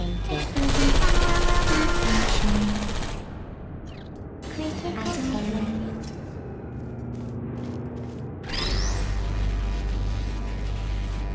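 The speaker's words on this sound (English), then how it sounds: "I heard gunfire!" Bursts of rapid automatic gunfire crackle over a dense, loud Portal 2 game soundscape with a steady electronic hum, easing briefly midway before a heavy rumble returns.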